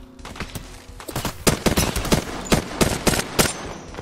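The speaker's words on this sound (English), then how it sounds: "Opening fire." Rapid bursts of gunfire in the Apex Legends shooter game, with sharp repeated shots clustering into loud volleys through the clip and no talk over them.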